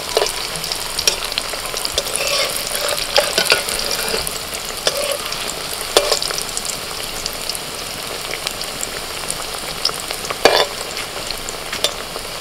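Banana flower dumplings fry in oil, producing a steady crackling sizzle with scattered pops and occasional utensil scrapes, close and fairly loud with no talking.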